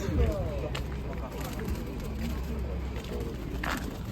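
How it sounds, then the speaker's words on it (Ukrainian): Pigeons coo in an aviary at an outdoor market fair in Bilohorodka, with soft low cooing calls under nearby conversation and market bustle. "Познімаю ваші голубі."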